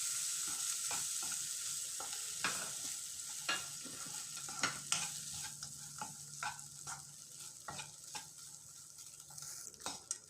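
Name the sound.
stirring cooked white rice with lime juice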